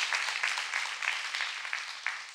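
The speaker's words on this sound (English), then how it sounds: "Clap your hands if you found him." Church congregation clapping hands during a sermon, a steady crowd patter with several sharper peaks across the short stretch, moderately loud and without speech.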